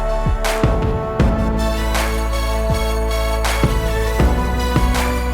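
The hook of a song, with sustained string pads beneath a steady beat, chords shifting every few seconds at a moderate, full volume.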